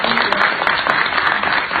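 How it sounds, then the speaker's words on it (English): An event audience claps in a brief, dense burst of applause, loud and steady with many hands at once. "Give yourself a round of applause."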